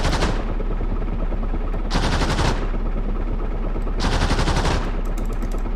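Machine gun fire from an armoured reconnaissance vehicle in the DCS World combat game: two loud, rapid bursts of a few seconds each, separated by a steady engine rumble, with a short final rattle.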